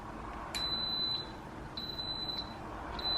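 An Instant Pot pressure cooker gives three short, clear electronic beeps at an even pace while being set to high, each a bright steady tone over low room hum, with no talking.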